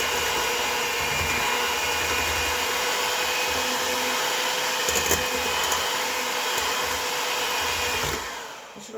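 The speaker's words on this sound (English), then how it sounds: "Mixing the eggs." A small electric hand mixer beats eggs for homemade waffles, a loud, close, steady motor whir running for about eight seconds before cutting off, with no voices.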